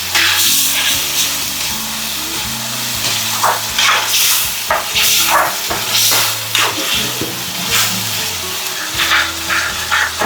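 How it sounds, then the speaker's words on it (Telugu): Masala frying in oil for a coriander fish curry, a loud, steady sizzle with stirring scrapes and bursts of crackle across the whole stretch, heard up close with no talk. "మసాలా బాగా వేసుకోవాలి. పచ్చి వాసన పోయేంత వరకు వేయించుకోవాలి."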